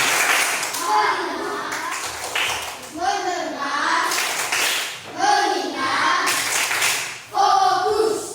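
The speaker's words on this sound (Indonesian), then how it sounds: "tepuk konsentrasi" A class of elementary school children performs a rhythmic concentration clap routine, with bursts of clapping mixed with chanting voices filling the room loudly throughout.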